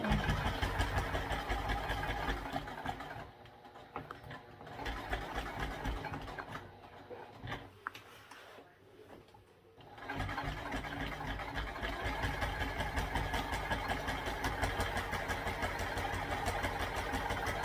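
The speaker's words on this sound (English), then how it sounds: "if your machine struggles, it might be a good idea to go slow here, because you also are sewing through that firm stabilizer" A sewing machine stitches through vinyl and firm Decovil Heavy stabilizer for a tote bag, its steady motor hum dropping away for several seconds midway before running again at an even pace.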